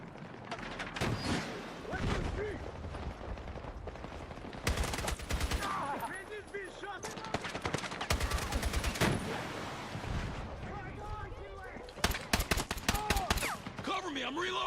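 Rapid bursts of video game gunfire crackle through a busy firefight, with sharp volleys near the start, around the middle and a dense rattle at the end, mixed with voices and other game sounds.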